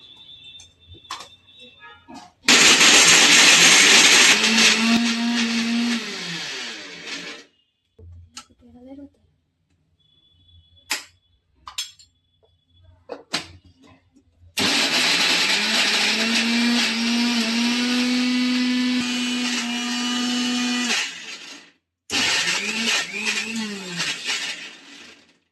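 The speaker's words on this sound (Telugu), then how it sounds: "ఇప్పుడు వీటిని మొత్తం మిక్సీకి వేసుకుందాం కొంచెం కొంచెంగా." A kitchen mixer grinder pulverises dried date seeds in three loud whirring bursts, each rising in pitch as it runs, separated by quiet pauses with small handling clicks.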